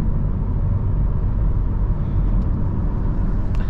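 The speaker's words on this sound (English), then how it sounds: "Let's go ahead and test the handling in this Civic." Steady low engine and road rumble from inside a 2024 Honda Civic EX-L during a handling test drive, a constant broadband drone with tire noise filling the whole stretch and no talking.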